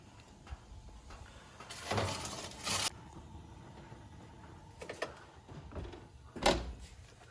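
Kitchen oven door closing as a pan of brownie batter goes in: a short sliding scrape and clunk, followed a few seconds later by a sharper knock, close by in a quiet room.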